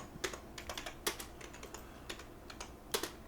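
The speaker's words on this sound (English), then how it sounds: "I'm going to type in a title for this project" Typing a title on a computer keyboard, a quick irregular run of light close key clicks with a few louder taps, quiet and alone.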